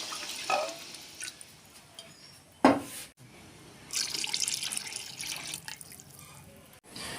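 Water is poured into soaking rice in a cooking pot for a prawn dum biryani, heard as short splashy gushes and trickles, then a longer steady pour, close up and fairly quiet.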